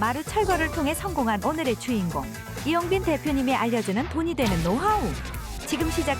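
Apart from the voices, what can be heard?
No everyday noise stands out behind the speech.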